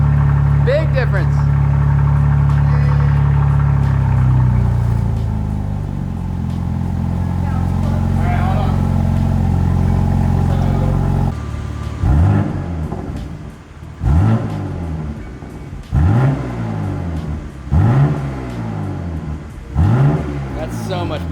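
A BMW G80 M3 fitted with an AWE catback and mid pipe idles at close range, then barks through a series of sharp, loud rev blips in steady rhythm, with people talking over it.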